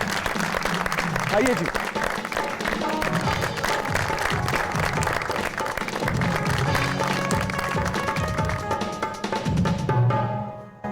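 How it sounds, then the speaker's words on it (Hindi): A studio audience on a television talk show welcomes guests with sustained applause, layered under music and a brief spoken greeting, staying loud throughout before cutting off at the end. "बहुत सारी तालियों में वेलकम कीजिएगा जी"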